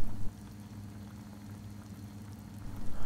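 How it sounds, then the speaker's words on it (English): Mushrooms and tofu simmering in a pot, giving a steady low bubbling and soft liquid burble throughout, slightly louder at the start and end, with no talking. "Simmer for around 10 minutes until mushrooms get fully cooked and the tofu well absorbs"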